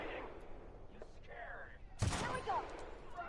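Gunfire in the video game The Outer Worlds: a sharp, loud broadband blast near the midpoint with a second burst just after, set against quieter game ambience and movement.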